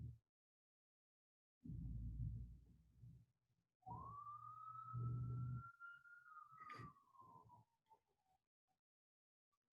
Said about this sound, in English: Siren, siren.